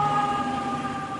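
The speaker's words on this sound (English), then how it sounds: "It was time for the men of Engine 23 to answer the alarm again." Fire engine siren from Engine 23 in Manhattan heading out on an alarm call, a loud steady wail with sustained tones, close and continuous with no voices over it.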